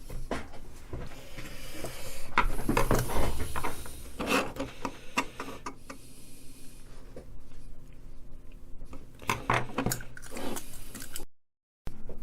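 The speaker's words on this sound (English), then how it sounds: "I think initially probably just stick a screwdriver in there, see if I can crack it open" A screwdriver pries at a clipped and glued plastic Fujifilm camera charger case, giving a run of close scraping, creaking and clicking bursts with brief pauses, ending in a short cut to silence.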